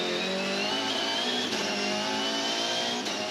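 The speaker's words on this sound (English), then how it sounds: "with its 60-degree mounted engine. Completely different noise to what we're used to in V8 Supercars." A Volvo Supercars race car with a 60-degree mounted engine at a motor race, its high-pitched engine note held loud and steady at sustained revs, with brief dips as it shifts.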